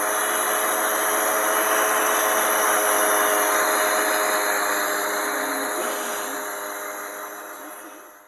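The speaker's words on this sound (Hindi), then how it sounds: "अब हम इसको ज़रा ग्राइंड कर लेंगे" A kitchen grinder whirs as it grinds masala, a loud steady high-pitched motor whine that slowly winds down and fades at the end.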